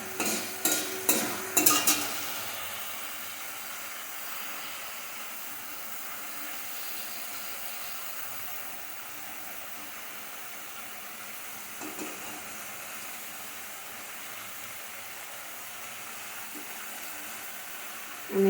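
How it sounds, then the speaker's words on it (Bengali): Fish curry masala for macher jhol sautéed in a pan with splashes of water added: a few sharp clattering knocks at the start, then a long, quiet, steady sizzle and hiss with occasional faint scrapes. "আমি একটু জল দিয়ে দিয়ে কষাই, যাতে নিচে লেগে না যায়"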